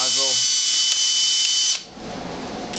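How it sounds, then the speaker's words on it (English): A drill bores out a nozzle during M70 assembly, a loud steady high whine that runs nearly two seconds, then drops to a lower rough grinding as it eases off. "Drill out the nozzle."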